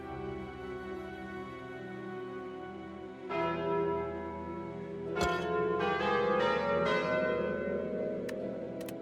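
The Culling Bell relic in a deck-building card game tolls as deep, resonant bell strikes that swell and layer, several overlapping rings building up over a sustained tone.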